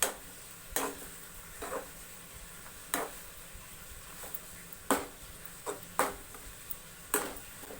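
A spoon stirs grated beetroot simmering in milk for halwa, clinking against the pan every second or so over a soft, steady bubbling background.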